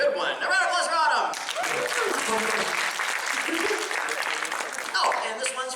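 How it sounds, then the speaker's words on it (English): A convention crowd at a Q&A session bursts into applause after a voice speaks, the clapping continuing with some chuckles before talking resumes over the tail end. "A round of applause for Autumn"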